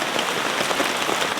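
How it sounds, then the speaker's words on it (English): Heavy rain drums steadily on a tent awning at a camp, a dense, close, continuous patter with no pauses and no voices over it. "And I still have pockets of rain here."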